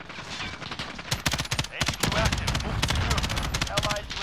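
Automatic gunfire in Call of Duty Modern Warfare 2019, loud rapid bursts that open fast, pause briefly, then run into a long dense stream of shots with a rattling texture, no voices.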